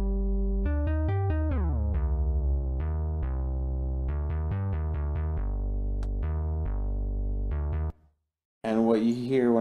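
A synthesized bass lead made in FL Studio plays a busy run of plucky, sharply decaying notes with deep low end, stops briefly, then a voice begins talking.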